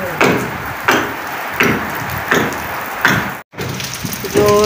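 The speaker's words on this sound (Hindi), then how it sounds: "बारिश तेज हो गई है ना।" Heavy monsoon rain pours down steadily on a surface in a village, with rhythmic pulses of louder drumming every second or so and a brief gap near the end.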